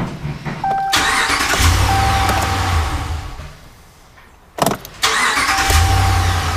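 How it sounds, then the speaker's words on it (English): Starter cranking bursts on a 2017 Ram 1500 with a 5.7L Hemi V8, turned over without letting it fire, heard as two loud, sustained whirring crank cycles separated by a brief pause, close up with no talk. "So one thing I do is I crank it a couple of times. I don't let it start, just to prime the system of oil."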